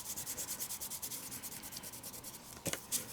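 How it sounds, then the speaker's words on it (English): Fingers rub excess material off cardstock in quick, rhythmic back-and-forth strokes, a soft close scratchy swishing with a few sharper scuffs near the end. "And I'm just rubbing away the excess."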